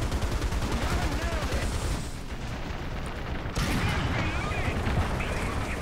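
Tank cannon fire in War Thunder, including a Panther firing, with heavy booming shots and rumbling battle noise running continuously, loud throughout, while someone talks over it.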